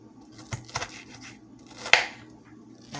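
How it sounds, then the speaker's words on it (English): A knife chopping onions on a board, a few sparse, distinct close cuts with quiet gaps and one sharper crunch toward the end. "I'm cutting up a few onions"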